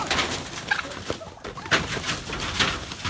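Turkeys calling in short, gobbling bursts, fairly close, over a rough outdoor background with no talking.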